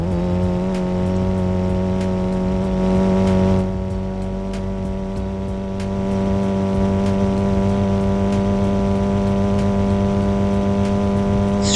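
A five-speed car's engine accelerates in the Roblox driving game, a loud, steady droning tone that holds its pitch and strains at high speed, with faint periodic clicks under it.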